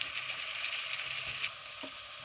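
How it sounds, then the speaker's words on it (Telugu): Salted onions fry in a pan for gongura mutton curry, giving a close, steady sizzle with a soft crackle that eases slightly partway through. "చూడండి, ఉల్లిపాయలు వేగాయండి"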